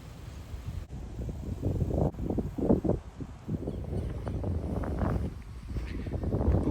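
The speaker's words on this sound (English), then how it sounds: "I know it's really windy" Strong wind buffets an outdoor microphone in a flood-damaged Florida neighborhood, a rough rumbling roar with uneven gusts throughout.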